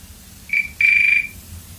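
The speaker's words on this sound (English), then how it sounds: "There you go, the trim phone ring sound." A trim phone rings with a short electronic trill and then a longer one, a shrill warbling tone that is loud and close, heard alone with no talk over it.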